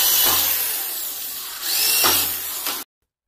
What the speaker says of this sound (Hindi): तो इस तरह से कुछ ये होल कर लेने हैं ड्रिल मशीन की मदद से